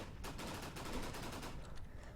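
A Glock pistol in Minecraft's Flans Mod fires in a rapid run of sharp shots, closely spaced and fairly even, over roughly two seconds.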